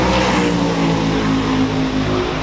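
A chassis race car engine, stated as a 440, idles loud and close with a steady, heavy droning rumble and no talking.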